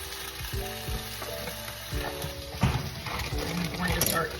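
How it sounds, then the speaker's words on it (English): Eggs frying in bacon fat in a pan give off a steady, close sizzle with crackling bursts, while a voice talks over the cooking. "I make the bacon first so that the eggs can cook in all of the delicious bacon fat"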